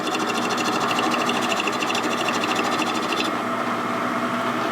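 A machine cuts a 1946 Harley-Davidson knucklehead stroker motorcycle engine mount, giving a steady, loud, continuous whir with a fast high buzzing pattern that drops away near the end while the cutting hum carries on.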